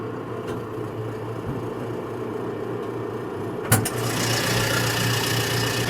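A brand-new John Deere 5100e tractor engine drones at a steady low idle, then a sudden clank hits and the engine runs noticeably louder and rougher.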